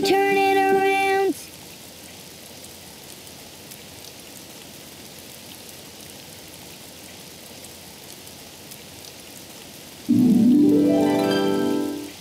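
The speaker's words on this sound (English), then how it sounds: "Oh, it's raining outside." Steady rain hiss fills the background, soft and even, with a burst of music at the start and a rising musical swell near the end.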